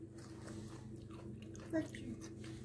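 Crunchy home-canned onion being bitten and chewed close up, a soft crisp crunch with one brief sharper bite over low steady background noise, no talking.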